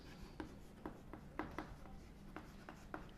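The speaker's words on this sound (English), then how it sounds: "So let me write it down." Notes are handwritten, a pen or marker scratching in short, evenly spaced strokes with brief pauses, faint and close, with no talking over it.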